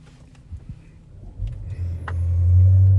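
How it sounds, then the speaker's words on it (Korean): A 2024 Land Rover Range Rover gasoline engine cranks and catches, its low rumble swelling into a steady, smooth idle that grows louder and holds to the end. "시동 한번 켜보도록 하겠습니다"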